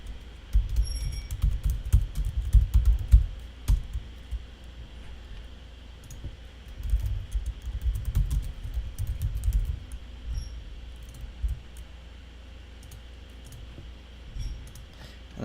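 Typing on a computer keyboard to fill out an online form, quick bursts of close key clatter separated by pauses and lighter scattered taps, with no talking.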